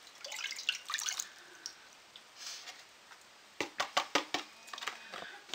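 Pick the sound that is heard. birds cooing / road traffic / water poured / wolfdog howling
water poured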